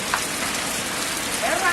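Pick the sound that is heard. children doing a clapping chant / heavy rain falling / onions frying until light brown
heavy rain falling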